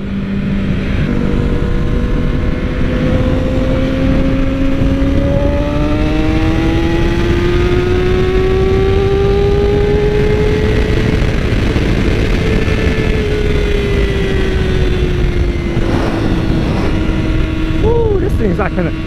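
Sportbike engine pulling hard under acceleration while riding, a steady loud drone whose pitch climbs and holds through one long gear, with wind roar throughout and a rider's voice briefly audible over it.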